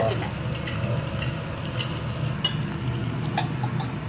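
Ginger, green chili and curry leaves fry in hot oil with a continuous crackling sizzle, broken by occasional sharper spatters and light stirring, close and fairly loud.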